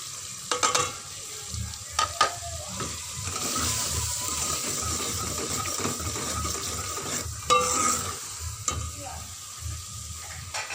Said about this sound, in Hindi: यह मसाला हमारा अच्छी तरह फ्राई हो गया है।